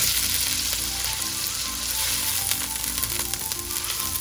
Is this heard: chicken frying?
yes